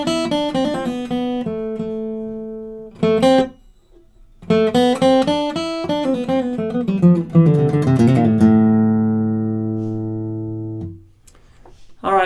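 Acoustic guitar solo, picked melodic lines with ringing sustained notes and brief pauses, loud and close, ending on a long held chord.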